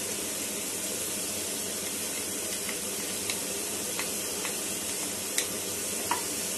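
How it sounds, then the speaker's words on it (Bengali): Grated garlic and a chopped green chilli sizzle in a pan while they are stirred. A steady frying hiss runs throughout, broken by a few light scraping clicks of the spoon, with no one talking. "এটাকে এবার আমি ভালো করে নাড়াচাড়া করব"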